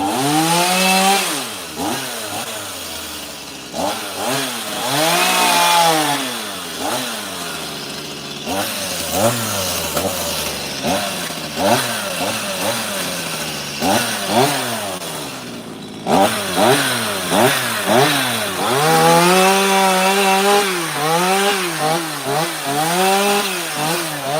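A chainsaw carves a block of ash wood into a fork and spoon, the engine revving up and down in repeated loud bursts with short dips between cuts, close and continuous throughout.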